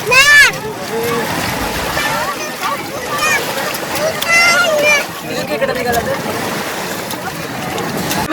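Bathers, children among them, splash and play in a sacred tank at Rameswaram, with irregular watery splatters and bursts of excited voices throughout.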